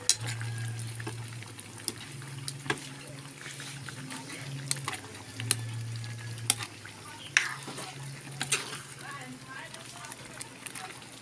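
Laing, taro leaves simmering in thick coconut milk, being stirred in a pot, with soft bubbling and sharp intermittent scrapes and clicks of the spoon, while a person talks throughout.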